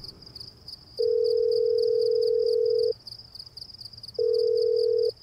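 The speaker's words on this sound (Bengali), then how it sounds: "সকালে দিগন্ত সেটা ভালো করে দেখেই ফোন করল প্রণয়কে" Telephone call tone in a radio drama: a steady electronic ringback tone sounds for about two seconds, pauses, then returns for about a second, loud and clear over a faint background hum.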